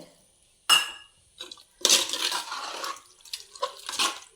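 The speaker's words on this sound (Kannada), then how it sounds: "ಒಂದು ಅರ್ಧ ಗ್ಲಾಸಷ್ಟು ನೀರು ಹಾಕ್ತೇನೆ" About half a glass of water is poured into a pan of chicken gravy, a short gushing splash followed by a few softer pours and light clinks of the vessel, close and fairly quiet.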